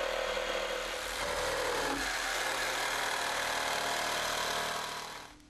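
A power saw cuts protruding deck planks to length against a clamped guide, giving a loud, continuous whining cut that runs steadily and then winds down at the end, with no talking.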